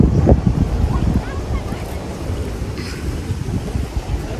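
Wind at the Koshi barrage on the Chatara bridge buffets the microphone in a close, continuous low rumble, with faint voices now and then.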